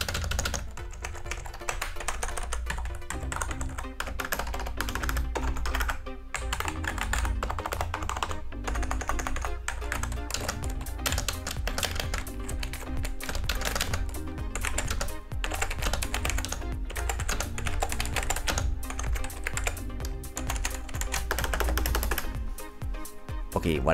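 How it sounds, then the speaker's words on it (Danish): Keys clatter steadily on a Mad Catz S.T.R.I.K.E 2 gaming keyboard, dense rapid clicks and taps running throughout, close and loud, with a low hum underneath. "Her er lige, hvordan keyboardet lyder, når du taster på det."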